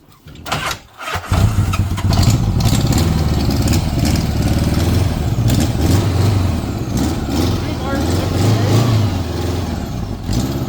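A motorcycle revs loudly during a birthday burnout, starting with a rough burst and then holding a steady, throaty roar at close range for about nine seconds, with people talking under it.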